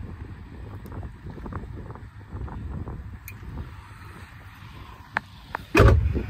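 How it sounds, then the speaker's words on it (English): Wind gusts outdoors beside a parked fleet of trucks and trailers, a low rumbling buffet on the microphone with a few faint clicks and a louder gust thump near the end. "That wind is lovely."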